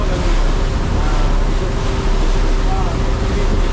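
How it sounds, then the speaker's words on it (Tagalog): A Filipino wooden outrigger boat runs on twin Mitsubishi 8DC9 diesel engines, giving a loud, constant drone with a steady hum. Heavy wind and water rush fill the sound the whole way through. "Mitsubishi pa lang makina nila. Kaya ang lakas oh."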